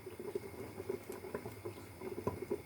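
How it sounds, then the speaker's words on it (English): A rhubarb and sugar mixture boils in a pan, giving a soft, continuous bubbling patter of small pops, close by and fairly quiet. "It's probably bubbling now."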